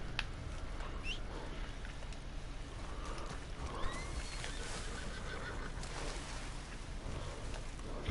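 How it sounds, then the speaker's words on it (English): A horse in a video game gives a faint whinny amid a low, steady ambient bed, with soft clip-clop and mechanical clicks scattered through the quiet scene. "We're gonna give it one to my horse."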